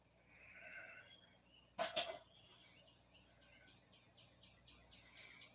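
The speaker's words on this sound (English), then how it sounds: "I don't know if you guys can hear the morning birds out there singing." Morning birds sing outside an open window, with a series of repeated chirps and short trills in the distance, faint and spread across the clip, broken near the start by a brief loud burst close by.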